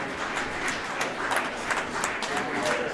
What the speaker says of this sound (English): That applause you're hearing was for a really nice shot from the Hartford skip on sheet 3